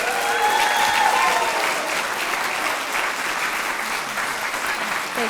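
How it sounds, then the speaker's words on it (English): Warm, steady applause from an audience at an inaugural university lecture greets the professor, continuous clapping with a faint whistle or cheer early on. "please give her a very, very warm round of applause, Professor Selina Tusitala Marsh"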